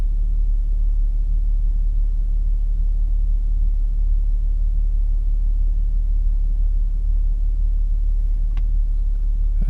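An Audi S4 B8.5 engine idles low after a cold start, a steady deep rumble held close and even throughout, with a brief faint click near the end.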